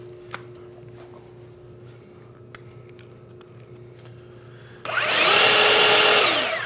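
DeWalt DCW220B cordless belt sander starts after about five seconds of quiet ambience and runs loud and steady, a broad abrasive whir with a pitch that rises as it spins up, continuing to the end.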